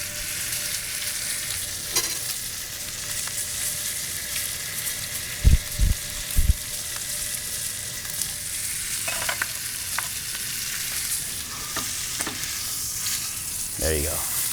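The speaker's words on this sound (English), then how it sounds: "I will take it and put it on the edge of the pan so it almost has something to lean on. And now that side, that fat side" Fat side of a steak sears against the edge of a hot pan, a steady close sizzle and crackle running throughout, with a few brief clinks of the pan or utensil partway through.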